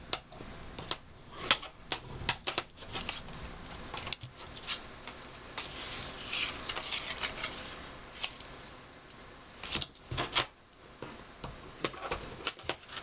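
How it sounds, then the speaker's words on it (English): A bone folder is drawn across small Halloween card paper to score fold lines, making close, dry scraping strokes broken by light ticks and taps. There is no speech. "I'm going to go ahead and put a score line through here and through here so we can fold it together."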